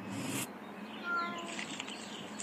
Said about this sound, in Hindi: जैस्मिन, मैंने तुमसे कितनी बार बोला है अपनी इस बिल्ली को घर के बाहर रखा करो।